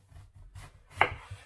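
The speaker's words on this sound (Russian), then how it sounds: "Нарезаем кольцами, точнее кусками, а из них делаем кольца, вырезая серединку." A knife slices a peeled zucchini into chunks on a board, giving a few soft, muffled cuts and one sharper chop, close and quiet with no talk.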